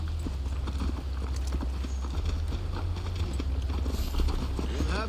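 Rhythmic clip-clop of a horse's hooves at a riding pace in Assassin's Creed Valhalla, steady, close and moderately loud over a low ambient rumble, with faint tack or gear rattles.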